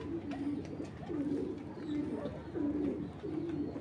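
Big-sized racing pigeons coo in a steady, repeated rhythm of soft, rolling calls, close by and fairly quiet, with faint background sounds between the calls.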